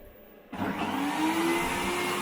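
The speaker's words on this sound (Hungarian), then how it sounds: "Szóval porszívózzunk is." A household vacuum cleaner switches on after a moment of quiet and runs with a steady, loud whine that holds through to the end.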